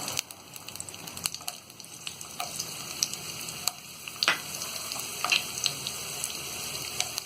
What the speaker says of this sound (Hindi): लहसुन को हम हल्का सा गुलाबी होने तक फ्राई करेंगे